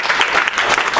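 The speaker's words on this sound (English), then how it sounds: "let's give them a round of applause" A round of applause at a sales meeting, a dense burst of clapping from a group of people, close and steady for about a second.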